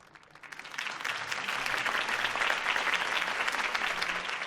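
Loud, steady applause from a large crowd in the video game Batman: The Telltale Series swells in within the first second and continues evenly throughout.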